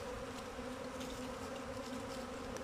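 A honeybee swarm drones loudly in open air as beekeepers try to catch it, a dense, continuous buzzing hum that stays steady and close throughout, with no voices.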